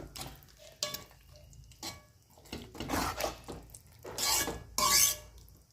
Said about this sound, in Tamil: இப்போ கிண்டி விட்டுக்கலாம்.